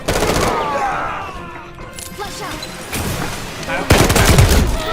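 An MK-47 rifle fires in the video game Delta Force, with loud, rapid bursts that come and go and a heavy final volley, mixed with other game sounds.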